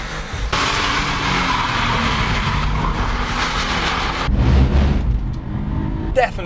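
Tuned car on coilovers lapping a race track, engine roaring loud and steady with tire noise, a sudden shift partway through as it works through corners, with talk over it.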